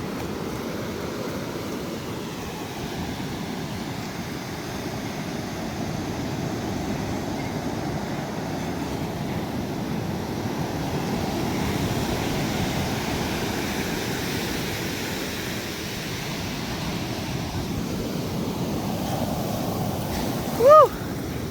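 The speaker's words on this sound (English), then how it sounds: "Gotta dip my feet into La Push Beach." Steady ocean surf at La Push Beach, Washington, a broad continuous wash of breaking waves with wind rumble on the microphone and a brief squeak near the end, no speech.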